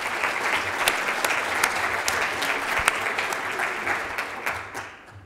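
Applause from delegates at a sponsorship summit, a full, sustained burst of clapping with a few sharper individual claps standing out, tapering off in the final second.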